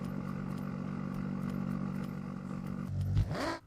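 Nissan GT-R 3-liter V6 engine in Forza Horizon, a steady droning hum holding for about three seconds before a sudden rising rev that sweeps upward and cuts off.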